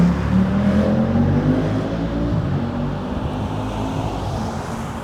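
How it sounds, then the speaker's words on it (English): Road traffic passes nearby, a loud steady vehicle roar with a rising engine tone early on that gradually eases to a continuous wash of passing cars. "There's all kinds of traffic."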